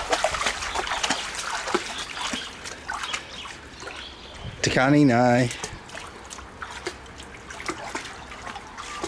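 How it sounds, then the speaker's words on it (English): Water from a garden hose runs and trickles into a backyard pool, a soft continuous splashing under a voice, with a short whining sound from a dog partway through. "I got the hose in the pool. So there's water."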